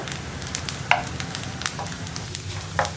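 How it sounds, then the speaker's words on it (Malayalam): Coconut and cashews fry in hot oil in a pan, a steady close sizzle broken by a few sharp crackles and spoon scrapes. "ആദ്യം തേങ്ങ ഫ്രൈ ചെയ്ത് മാറ്റുക അതുപോലെ തന്നെ ക്യാഷിനട്ട് ഫ്രൈ ചെയ്ത് മാറ്റുക"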